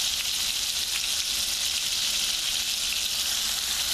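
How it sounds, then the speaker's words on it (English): Mushrooms, shallots, garlic and onions sauté in a pan for a veal stew Marengo, giving a steady, dense sizzle that holds even throughout without talk. "we're going to saute the mushrooms, the shallots, the garlic, and the onions"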